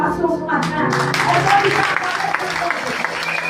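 A congregation at a church service applauds, a steady wash of clapping with a voice speaking over it throughout.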